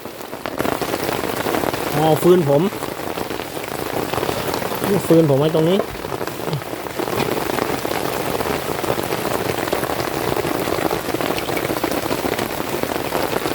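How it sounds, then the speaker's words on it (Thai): Steady rain patters on a surface throughout at night in a jungle, a dense continuous hiss, with someone speaking briefly a couple of times over it. "ฝนก็ตกลงมา"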